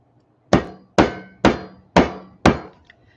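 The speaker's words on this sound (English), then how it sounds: "It's really all you need for these is a hammer." Five sharp hammer strikes land at an even pace, each a loud crack that rings briefly before the next blow.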